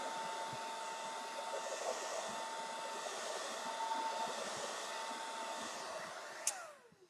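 Hair dryer running steadily on a cool setting to dry a craft transfer, a close, continuous whirring hum that holds evenly for several seconds before switching off and winding down at the end.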